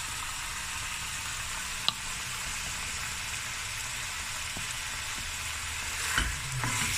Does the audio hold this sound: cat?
no